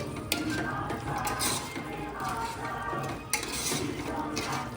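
A spoon scrapes and clinks against a pot while mutton curry is stirred with mutton masala, producing steady, close scraping strokes with a few sharper knocks.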